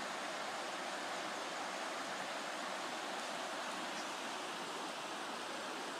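The Tocoa River rushes steadily with a broad, continuous hiss of flowing water, unbroken and fairly close, with no voices.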